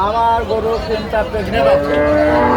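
A cow moos loudly and at length, close by, with faint crowd chatter in the background.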